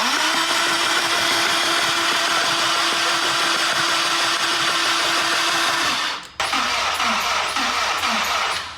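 A Honda S2000 engine with its spark plugs removed and a suspected blown head gasket and warped head cranks over, a loud, steady whirring starter drone that briefly cuts out and then resumes with a rhythmic chugging pattern.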